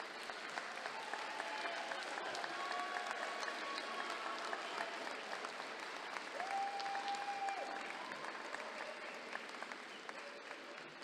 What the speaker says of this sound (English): I would ask the graduates to stand and salute with your applause your family and friends